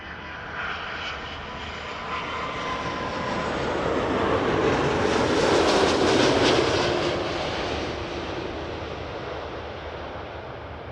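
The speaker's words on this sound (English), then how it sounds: "we got a heavy Air Canada 887 and a 330 from Vienna" An Air Canada Airbus A330 jet at Toronto Pearson Airport roars past, its engine rumble swelling to a loud peak at mid-pass and fading away, steady and broadband with no talk.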